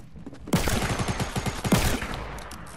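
Video game gunfire in a Magnum and tactical SMG duo match: two close, loud bursts of rapid automatic shots, each about a second long and separated by a brief pause.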